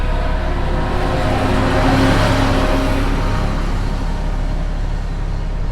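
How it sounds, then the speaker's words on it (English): A car passes loudly and close on a rural road with a wide shoulder, its broad tire and engine roar swelling and then fading steadily over several seconds, with no voices. "now I'm blocking traffic just because there's a car coming"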